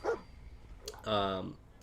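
Dogmeat, the dog companion in Fallout 4, gives a couple of short close barks and yips between game sounds.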